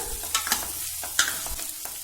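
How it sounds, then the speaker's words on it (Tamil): Chopped onion and moong dal sautéed in hot oil sizzle steadily, with a few sharp scrapes of a spoon stirring the pan, heard alone without talk. "வெங்காயத்து கூடயே இந்த சிறுபருப்பையும் சேர்த்து வதக்கி எடுத்துக்கலாம்"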